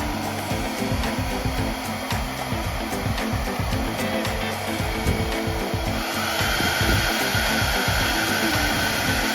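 A Feekaa anion fast-drying hair dryer runs close by with a loud, continuous whooshing roar, and its tone shifts slightly partway through.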